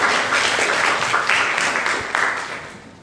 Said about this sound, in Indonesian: Ya, aplaus dulu ya.